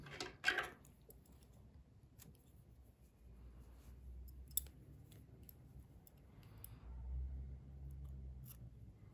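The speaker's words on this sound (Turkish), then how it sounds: "İpliği kesiyorum" Scissors snip through crochet yarn in one short, crisp cut at the start, followed by faint handling clicks and quiet room noise.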